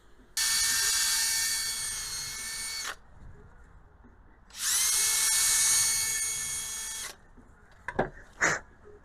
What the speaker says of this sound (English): before I drill the hole to make the same hole here and here